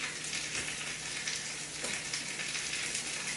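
Bacon and eggs frying in a pan: a dense, even crackle and sizzle runs steadily and alone for a few seconds at moderate loudness.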